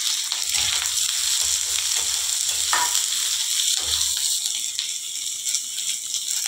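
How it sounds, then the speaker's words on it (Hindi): Chopped onion sizzles and crackles steadily in hot oil in a pan, with occasional stirring scrapes, as for a simple Indian vegetable dish of ridge gourd with garlic; close and continuous, no talk. "अब हम इसमें कटा हुआ प्याज डालेंगे।"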